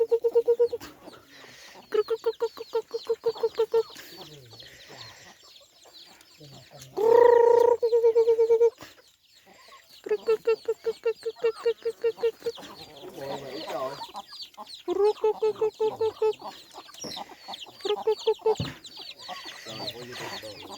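Small chickens cluck and squawk close by in repeated rhythmic bursts, one louder rasping call standing out midway, while a person speaks at times between them.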